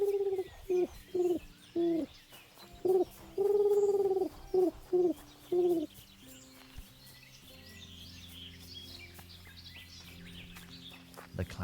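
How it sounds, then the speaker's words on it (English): A pigeon coos in a series of low, soft, rhythmic calls, repeated several times before fading into quieter outdoor ambience with light background sound. "That's just a pigeon."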